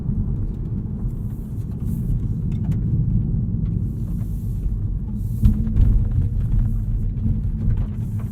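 A 2022 Toyota Supra runs in normal drive mode, its engine a low, subdued rumble that holds steady and swells briefly midway, with no talk over it.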